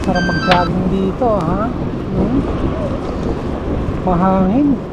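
Strong wind on a night walk with a Singapore view buffets the microphone in a steady low rumble, while voices talk and sing over it throughout.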